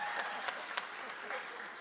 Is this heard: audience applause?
yes